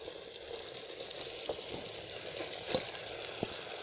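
Fried rice ingredients stir-mixed in a pan give a steady soft sizzle, with occasional spoon or spatula scrapes and taps standing out near and briefly.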